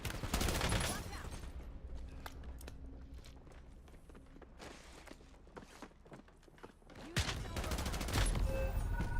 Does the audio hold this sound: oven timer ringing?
no